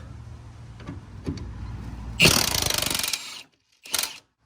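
A 17 mm wrench works loose the nut and bolt on a coilover of a 1992–2000 Honda Civic sedan, giving a short burst of rapid metallic ratcheting clicks close up, followed by a brief separate clank after a pause.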